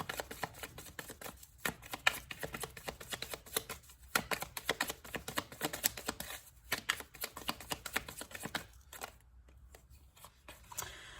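Tarot cards are shuffled by hand to draw one more card, giving a rapid, close, crackling patter of card edges that continues with only brief gaps.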